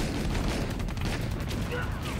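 Dense, rumbling gunfire and distant shelling blend into a continuous roar, with a narrator's voice running over the battle noise.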